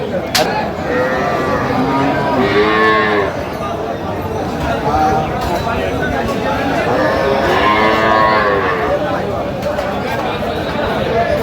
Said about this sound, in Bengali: গাভী বাছুর আমরা দেখছি